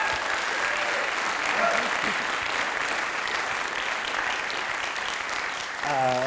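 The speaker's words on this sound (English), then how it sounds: "one more round of applause for McKenzie and Jennifer" Audience applause at The Capitol following a performance event, a continuous, fairly loud round of clapping filling the room, with a voice briefly heard near the end.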